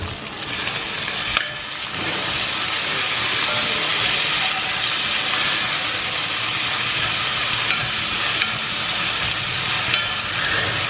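Onions sautéing with a pinch of salt in a pan for a mutton coconut milk curry, a loud, continuous dense sizzle with faint stirring knocks, no voices.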